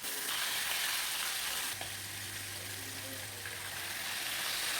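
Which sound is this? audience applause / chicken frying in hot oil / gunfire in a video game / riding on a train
chicken frying in hot oil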